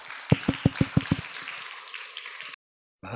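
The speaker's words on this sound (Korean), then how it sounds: "뜨겁게 박수로 맞아주시기 바랍니다" A church audience at a Friday late-night prayer meeting claps to welcome an elder to speak, with a run of distinct claps fading into scattered applause before it stops abruptly.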